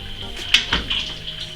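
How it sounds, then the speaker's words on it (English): A spoon stirs ginger beer with black treacle and water in a container, giving a few light clinks and scrapes against its side. "So let's just give it a stir."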